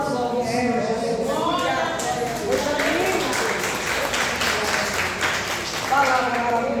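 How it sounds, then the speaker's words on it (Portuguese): A church congregation bursts into applause, a dense wash of clapping that swells and carries on, with voices sounding over it at the start and end. "Que as palmas louvem o Senhor Jesus."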